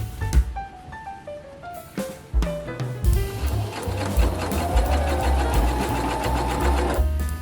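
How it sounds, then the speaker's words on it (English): A sewing machine stitches quilt pieces together, starting with a few short stop-and-go bursts before settling into a steady, fast, close mechanical rattle. "I'm going to go ahead and sew"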